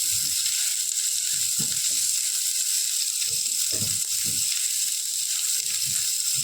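Onions frying in hot oil for a grandmother-style Karnataka chicken curry, a loud, steady, close sizzle throughout, with soft low stirring knocks underneath.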